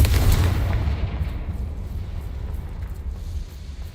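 Confringo blasting spell exploding in a video game: a heavy, deep boom at the start that rolls off and fades gradually over a few seconds, loud and close, with no talking.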